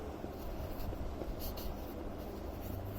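Soft, steady scratching of writing on a board or paper during a maths lesson on ribbon lengths, faint and continuous with no talking.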